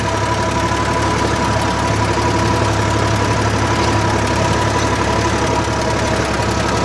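A farm tractor engine runs steadily near and loud, pulling a load through a corn field, with a constant low rumble and even mechanical drone throughout and no talking.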